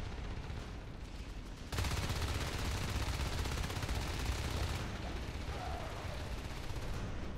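Rapid gunfire in the video game Natural Selection 2 during a tournament match, a dense continuous rattle of shots that grows louder and fuller partway through and keeps going.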